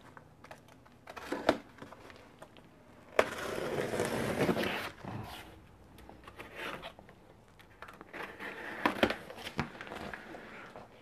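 Cardboard packaging for an Aerocool Dreambox being torn and opened up close, with bursts of crinkling, scraping and rustling separated by quieter handling, no talking.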